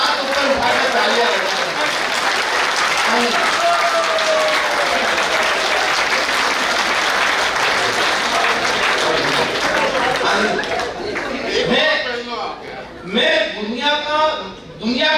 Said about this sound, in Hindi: साइड से दोनों हाथ ऊपर उठा के तालियां